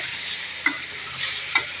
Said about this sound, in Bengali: এবার আমি কচু আর কলাগুলো দিয়ে দেবো ভাজা, দিয়ে ভালো করে কষে নিব।